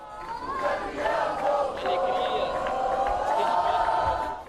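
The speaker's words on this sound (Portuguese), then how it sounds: "dava para ouvir os torcedores vibrando lá fora" A crowd of football fans cheering and chanting together outdoors in Chapecó, a loud, sustained roar of many voices with no single speaker standing out.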